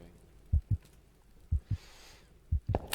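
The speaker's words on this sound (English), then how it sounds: "I like the heartbeat sound." A slow heartbeat from a video game set in a death row cell thumps in paired beats, three double pulses evenly spaced, low and dull over a faint hiss.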